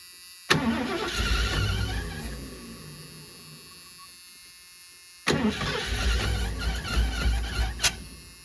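An old RV engine that sat unused for over two decades, with a balky carburetor, runs in two loud bursts separated by a quieter stretch, rough rumbling with sharp mechanical clatter.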